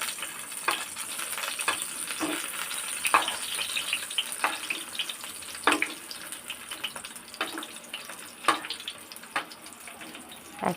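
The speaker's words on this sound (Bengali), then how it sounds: "আর এক পিট করে ভেজে নিচ্ছি" Pointed gourd (potol) slices frying in hot oil in a home kitchen give a steady, close sizzle, broken by irregular sharp pops and spatters throughout.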